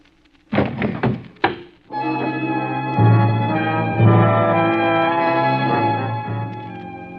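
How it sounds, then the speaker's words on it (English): Radio drama sound effect of a gun butt striking a man's head: a couple of dull, close thuds early on, followed by music. "Gun butts make a funny sound hitting a man's head."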